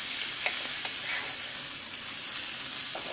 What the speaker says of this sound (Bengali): পেঁয়াজ ও রসুন কুচি আমি সুন্দর করে শাকের সাথে মিশিয়ে দেবো সুন্দরভাবে, নেড়ে নিচ্ছি